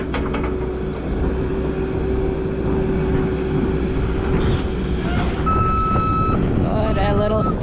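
Reversing alarm on a farm skid steer, a steady repeating electronic tone over loud diesel engine rumble, with faint talk and other beeps near the end.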